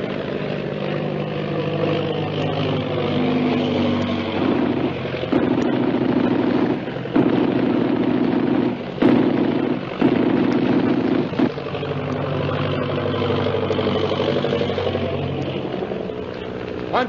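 A propeller airplane engine drones steadily and fairly close in a 1936 jungle adventure serial, its pitch wavering as the plane maneuvers, with a few sharp cracks cutting through the continuous rumble.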